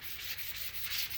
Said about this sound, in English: I'm just doing some random wet sanding to try to get this corner